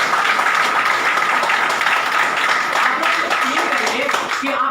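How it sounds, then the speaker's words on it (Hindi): Loud, steady applause from a large crowd at a network marketing event, dense clapping sustained throughout with no pause. "एक बार इन दोनों के लिए जोरदार ताली।"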